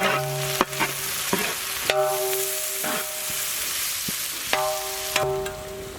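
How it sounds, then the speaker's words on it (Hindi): Sliced onions hitting hot oil with whole raw spices and black peppercorns for a Malaysian chicken biryani, a steady close sizzle broken by several sharp clanks and scrapes of stirring. "इमीडिएटली हम लोग स्लाइस्ड ऑनियंस ऐड करेंगे।"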